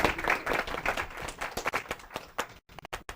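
A startup-talk audience claps to cast a vote, a burst of lively applause that thins into scattered individual claps and dies out near the end.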